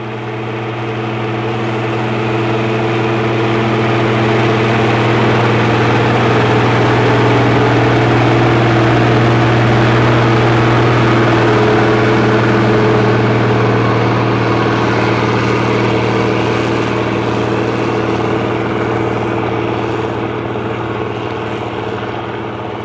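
A serial number 1 International 3588 tractor engine runs steadily at a constant, loud idle-like drone with strong low harmonics, holding even for over twenty seconds with no voices.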